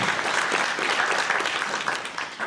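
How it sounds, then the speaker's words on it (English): An audience applauds at a Guide Dogs for the Blind graduation, honoring lifetime sponsors. The clapping is dense and steady, even in loudness, with no pauses across the whole stretch. "So a round of applause, please, for Willard and Ruth Eccles for their lifetime sponsorship."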